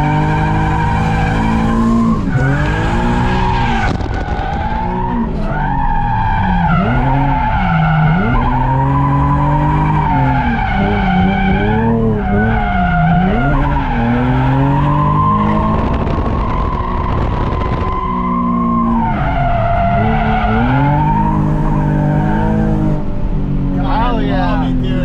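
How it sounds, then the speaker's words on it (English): A drift car slides around a cold track, its tires squealing loudly and continuously with sweeping, wavering pitch over a straining engine for the whole stretch. "they're still drifting"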